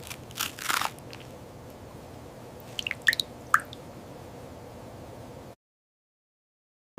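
Crunchy baguette dipped in soup is bitten, giving a few sharp close crunches and small crackles, then chewing sounds, with a burst of crunching early on and more bites near the middle before the clip goes silent.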